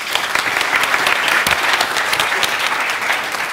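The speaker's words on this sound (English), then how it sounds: "Lucia Kamati, please give her a hand of applause." Sustained audience applause for a speaker at a youth event, dense steady clapping at a constant loud level throughout, with faint crowd murmur and no speech.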